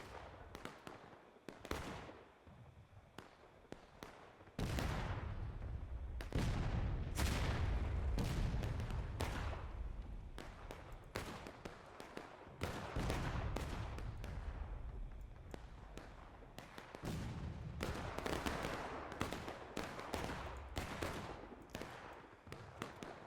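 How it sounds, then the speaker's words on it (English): Confederate artillery and musket fire in a Civil War battle game, a dense barrage of sharp booms and cracks at irregular, rapid intervals, some near and loud, others distant, with heavier thumps layered through the stretch and no talk. "clearly CSA artillery is preventing the Union from doing that"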